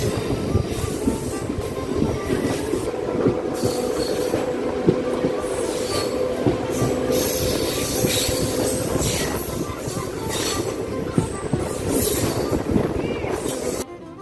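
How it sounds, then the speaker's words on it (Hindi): A train pulls into Pachperwa railway station in India, its steady rumble, clattering wagons and squealing wheels filling the scene loudly and continuously from start to finish. "यहाँ हमारी ट्रेन पहुँच चुकी है पचपेड़वा रेलवे स्टेशन पर।"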